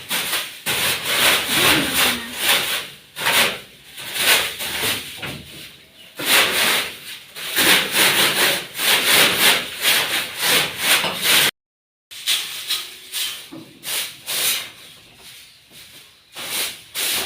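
Household cleaning in a Bangladeshi village home, with a cloth or brush rubbing and wiping surfaces in repeated rough back-and-forth strokes, loud and close, pausing briefly near the end.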